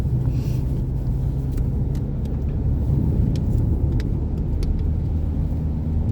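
Car driving on wet rural roads in France, heard from inside as a steady low road rumble and engine drone with faint ticks and clicks, alone and without talk.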